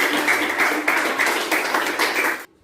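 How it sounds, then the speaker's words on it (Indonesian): Classroom students applauding a classmate named Olivia, a brief burst of brisk, uneven clapping that cuts off abruptly at the end. "kita berikan tepuk tangan untuk Olivia"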